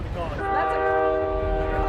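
A train horn sounds loud and sustained over rumbling rail noise as a train passes close by a football stadium in Jacksonville, the steady blast holding for nearly two seconds.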